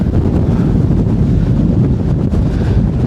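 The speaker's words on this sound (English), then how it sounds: "so breezy" Strong gusting wind of Storm Floris buffets the microphone near a rocky hilltop, a loud, continuous low roar with fluctuating gusts and no voices.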